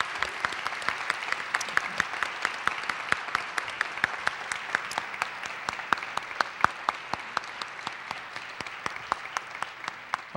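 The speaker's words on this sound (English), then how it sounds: "So one more round of applause, please" A smaller audience claps for scholarship students, with sparse, distinct individual hand claps in a steady patter that holds at moderate loudness for about ten seconds without talk.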